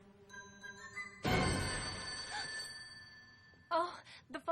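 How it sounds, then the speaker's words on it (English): A telephone rings in a home scene, a single loud bright ring bursting in abruptly, followed by a brief break and then people talking. "Oh, the phone."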